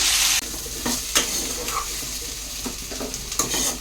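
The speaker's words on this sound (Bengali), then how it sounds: "যতক্ষণ আলুগুলো লাল লাল না হচ্ছে ততক্ষণ আমি একটু ভালো করে ফ্রাই করে নেব" Potatoes fry in hot oil for ghugni, a loud steady sizzle broken by several scraping stirs of a spatula in the pan, with no voices.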